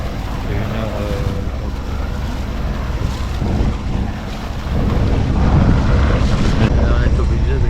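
A sailboat's motor runs while under way at sea, a steady low drone mixed with heavy wind buffeting and rushing water that grows louder in the second half.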